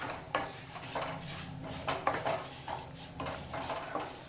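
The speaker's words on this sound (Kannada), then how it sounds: "ಹಿಂದೆ ಗುಟ್ಟಲೇ ಕೊಬ್ಬರಿನೂ ಹಾಕೋಬಿಡಿ, ಕೊಬ್ಬರಿ ತುರಿ." Grated coconut stirred into hot oil in a pan while making bitter gourd gojju, with soft scraping and clinking of a spoon against metal in an uneven rhythm, faint and close, no talk.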